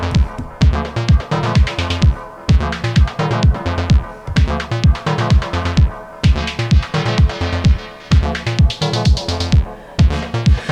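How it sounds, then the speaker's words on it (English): A driving Eurorack modular synth kick thumps on a steady beat with crisp hi-hat ticks between, loud and repetitive, with no voices. "if you like minimal sound like this, and you are happy with just a kick and a hat"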